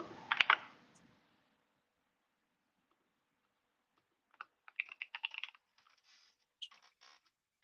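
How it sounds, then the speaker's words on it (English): Typing on a computer keyboard, a quick burst of clattering keystrokes, then silence before two more short clusters of soft clicks, faint and close with no talk. "I am actually typing one in right now."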